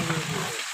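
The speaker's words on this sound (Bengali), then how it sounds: "এখন আমরা তেলের ভিতরে পেঁয়াজ ঢেলে দিলাম" Four kilograms of onions hitting hot oil in a large village cook's pot for tehari, a loud steady hiss and sizzle that fills the whole short moment, with no voices over it.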